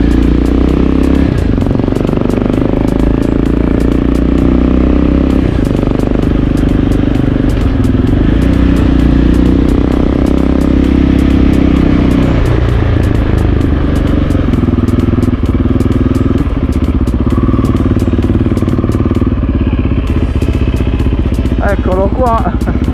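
A BMW GS1002 motorcycle engine rumbles loudly and continuously nearby on a road in Sardinia, its pitch rising and shifting as it arrives, with wind noise and a brief voice near the end.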